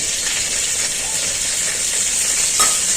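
Green chillies and whole cumin fry in a pan while being stirred, giving a continuous close sizzle with soft scraping strokes of the spoon and no talking.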